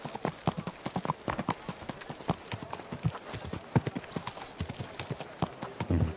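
Horse hooves clip-clop in a steady walking rhythm in the medieval video game Kingdom Come: Deliverance 2, crisp and fairly close, with no talk over them.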